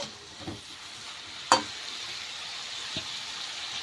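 A utensil stirs bottle gourd greens in a frying pan over a soft steady sizzle, with a few scraping knocks and one sharp clink standing out close by.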